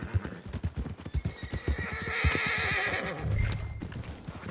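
Horses at stables in a video game: close, repeated clip-clop of hooves with a loud whinny and snorting neighs rising over it, no talk.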